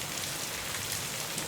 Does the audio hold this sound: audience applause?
no